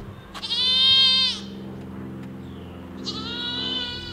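A goat bleats loudly twice, a long wavering cry followed by a second after a pause, over a low background hum.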